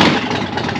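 A used motorcycle's engine turning over and catching, a brief loud rumbling burst close by with no voices.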